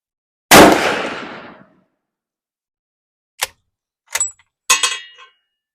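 A Winchester Model 70 in .375 H&H fires a single loud, sharp shot outdoors at a 50-yard range, its blast ringing out and decaying over about a second, followed by a few short metallic clanks and clinks from the rifle's bolt.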